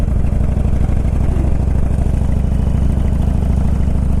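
A Harley Ultra Classic motorcycle engine idles loud and close, a steady, throbbing low rumble with a rapid uneven pulse that holds without a break.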